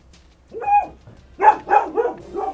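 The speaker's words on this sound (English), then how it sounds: "That's one of my 2 dogs." A dog barking at home, several sharp yaps in a quick burst: one bark, a pause, then three or four rapid barks, close and fairly loud.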